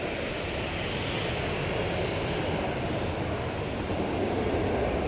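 TUI Boeing 787 Dreamliner jet aircraft at Manchester Airport, a loud, steady broadband roar of jet engines with no talk, holding even throughout.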